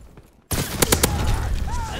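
Gunfire in the World War II shooter Call of Duty WW2, a sudden loud burst of rapid shots that opens into sustained heavy firing and battle noise after a brief quiet start.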